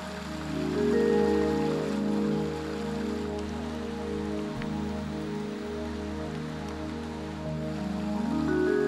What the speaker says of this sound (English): And the rain has started to pour down